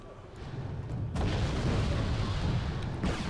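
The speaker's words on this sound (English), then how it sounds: "Firing off their 2 missiles and then getting out before anything bad happens." Missiles launching in a naval battle in the game Wargame Red Dragon: a sudden loud rushing roar kicks in and sustains as a heavy whooshing blast, with another sharp onset near the end.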